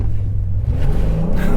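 A naturally aspirated V6 in a 2022 Honda Passport Trailsport pulls away from a stop through its 9-speed automatic, a loud steady low engine rumble building close by with no talk.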